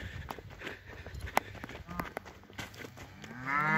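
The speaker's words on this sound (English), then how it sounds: "So we got the heifers." Heifers being gathered on a farm shuffle and trample nearby, with a clear moo rising at the end amid scattered footsteps and rustling.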